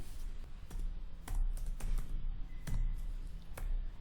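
Fingers typing on a computer keyboard, a run of crisp clicks in irregular bursts close by, with short pauses between keystroke clusters and no talking.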